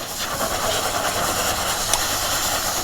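A motorbike is washed with a pressurised water spray and shampoo at a bike service shop in Leh, Ladakh, a continuous loud hiss with a brief sharper spurt near the end.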